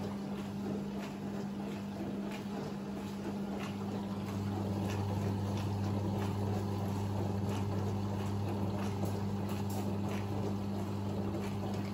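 A Klarstein mini dishwasher runs its wash cycle nearby, giving a continuous motor hum with sloshing, spraying water. The sound grows slightly fuller partway through and continues without speech.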